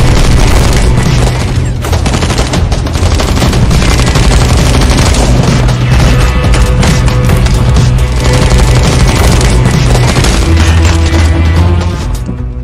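Heavy gunfire in an action film, dense bursts of automatic weapon fire mixed with booms and crashes, loud and continuous with no pauses.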